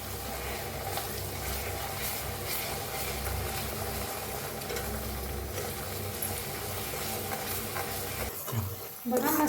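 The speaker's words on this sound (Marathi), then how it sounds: "हिंग, कांदा बारीक करून घेतलेला आणि घालून घेऊया याच्यात। आता छान भाजून घेऊया।" Chopped onion and asafoetida roast in a pan for an egg masala curry, making a steady low sizzle with faint scraping stirs throughout and a brief clatter near the end, close by with no talk.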